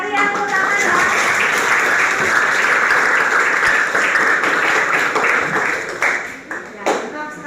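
A classroom group claps together in sustained, dense applause lasting several seconds before thinning out toward the end, with a voice talking over it.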